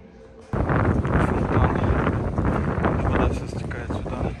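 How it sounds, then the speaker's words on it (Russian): Cold wind gusting through rainy Montreal streets, a loud rushing buffet on the microphone that starts abruptly after a brief quiet moment and holds steady. "Такой холодный ветер."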